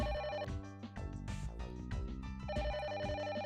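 A telephone rings in the video game The Silver Case, a steady electronic ring with repeating bright tones that runs through the whole moment, fairly loud and without speech over it.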